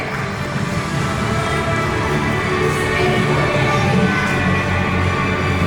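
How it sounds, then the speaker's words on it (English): Audience of parents applauding and cheering at a preschool annual day celebration, a steady dense wash of clapping and crowd noise held at even loudness throughout. "Please give a huge round of applause, parents. Please cheer for all the children."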